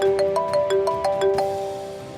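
A melodic mobile phone ringtone chimes in a quick repeating pattern of bright tones, close and clear, then fades out over about two seconds.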